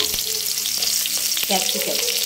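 Onion, tomato and capsicum sauté in hot oil in a pan for egg fried rice, with a loud, close sizzle broken by scraping and stirring clatter, no one speaking.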